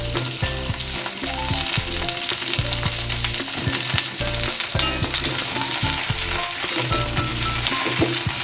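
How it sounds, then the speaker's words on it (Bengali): Ridge gourd frying together with pumpkin and other vegetables in a pan for a vegetarian stem curry, giving a steady, close sizzle with repeated stirring scrapes throughout, no voices. "ঝিঙেটাও সব সবজির সাথে ভেজে নিচ্ছি।"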